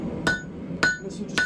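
Three sharp hammer blows ring out on the thicker side of an anvil horn as a blacksmith draws out a forged iron icicle, each strike bright and metallic with a short ringing tail.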